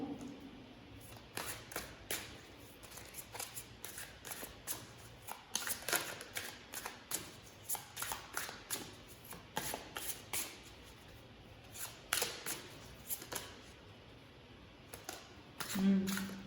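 Tarot cards being shuffled and picked, a quiet run of soft flicks, taps and riffles with irregular rhythm throughout, close and faint.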